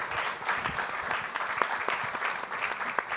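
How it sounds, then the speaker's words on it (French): Applause for Eric Julien at an event about repairing the earth, soft and somewhat distant sustained clapping from a room of listeners, with occasional sharper claps poking through the even patter. "On peut applaudir Eric Julien."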